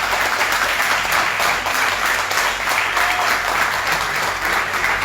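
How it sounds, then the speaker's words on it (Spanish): Church congregation giving loud, sustained applause during a service, a dense continuous roar of many hands clapping with a low hum beneath. "denle un fuerte aplauso a Jesús"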